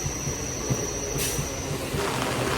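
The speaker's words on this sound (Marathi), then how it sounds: "वेस्टर्न रेल्वे कधीही थांबत नाही नेहमी चालूच असते" A Western Railway train passing in heavy Mumbai rain, a loud steady rumble of wheels on track with a brief high squeal, heard close and without any talk.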